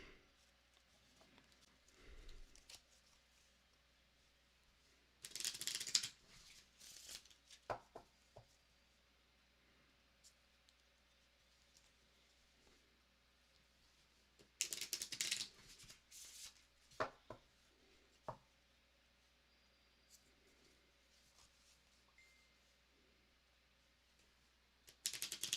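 A tarot card deck is shuffled during a live reading, producing two dense bursts of riffling cards separated by quieter stretches with scattered small clicks and taps.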